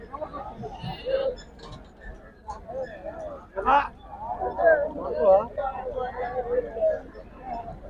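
Goats bleat repeatedly at the Macherla weekly goat market, their wavering cries rising over people talking nearby in the crowd.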